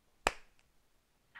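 One sharp, close clap rings out, followed by a much fainter, softer clap about a second later, with near silence around both.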